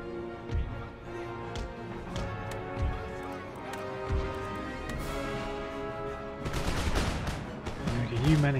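Musket volleys and scattered gunfire from a Napoleonic-era naval and land battle in the strategy game Empire: Total War, crackling repeatedly over steady orchestral music, with a denser burst of shots near the end.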